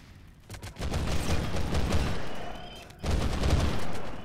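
Ship guns firing at will in a space combat video game: dense, rapid volleys of booming shots that start after a quiet half second, dip briefly near the three-second mark, then pound on steadily and loud.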